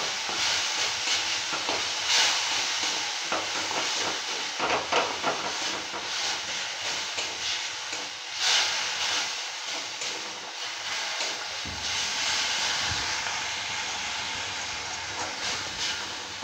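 Spices frying (kosha) in a pan for borar jhol, giving a steady, fairly loud sizzling hiss that runs unbroken throughout with small crackling bursts and no voices.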